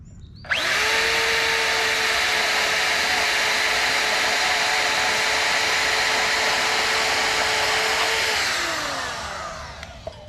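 An angle grinder cuts through half-inch steel rebar, a loud, steady high-pitched whine held for about eight seconds with a slight pitch drop near the end as it winds down, with no talking.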